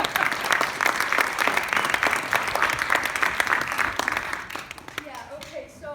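Audience claps and cheers after a monologue performance, a loud, dense round of applause that tapers off near the end as a voice begins over the fading claps.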